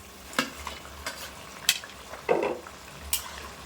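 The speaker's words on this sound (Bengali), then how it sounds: "তো এখন দিয়ে দেবো ভেজে রাখা মাছ" Fried small fish being stirred into a pot of potato and helencha greens curry, with several distinct scraping stirs of a utensil against the pot over a soft, steady sizzle, close and clear with no talking.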